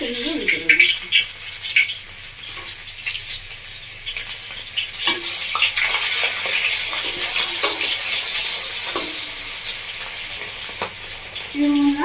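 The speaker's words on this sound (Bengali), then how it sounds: "মাছটা 1 পিঠ মতো ভাজা হয়ে গেছে।" Steady sizzling of bata fish frying in hot oil, with occasional clinks and scrapes from a utensil; a short tonal beep near the end.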